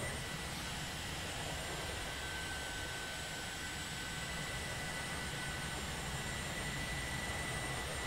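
Boeing 737-300 jet engines in the X-Plane 11 flight simulator give a steady, broad roaring hum with a faint high whine, constant and unbroken, and no talk over it.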